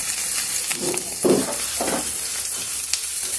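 Cumin, coriander, green chili paste and dried chilies fry in hot oil with a constant sizzle, while several stirring scrapes come through in bursts; no talking.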